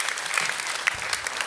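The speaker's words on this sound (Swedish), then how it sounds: "vi ska ge en stor och varm applåd för Roland Karlsson" Warm round of applause from an audience at a startup-day event, welcoming a guest up to the stage; steady dense clapping throughout, fairly near and even, with no talk over it.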